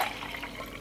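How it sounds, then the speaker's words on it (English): Warm milk pours into a small cup in a steady, close liquid stream, a short continuous trickle with no talk. "So you're just gonna pour the milk into"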